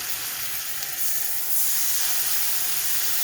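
Water poured into a pan of frying spices for a vegetarian doi potol curry sets off a steady hissing sizzle that swells louder midway and keeps going, close and continuous with no talking.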